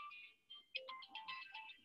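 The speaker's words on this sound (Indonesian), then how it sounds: "Mohon maaf, saya ada telepon sebentar." Phone ringtone playing a bright melodic electronic tune, fairly quiet and alone, during an online lecture session.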